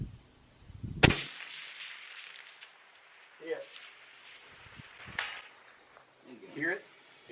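A single sharp Ruger American rifle shot cracks loudly, then a long echo rolls back from the distance over several seconds, with faint voices talking quietly afterward.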